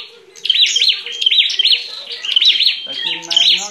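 Red-headed decoy birds call in a Hóc Môn bird-fighting setting, repeating bright rising chirping phrases loudly and close. A low voice murmurs underneath.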